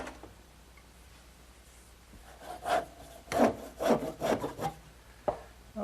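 Hand saw cutting a smoothed wooden candle stand column to length: after a quiet start, a series of rasping strokes comes up close, speeding into an uneven rhythm of five or six pushes and pulls.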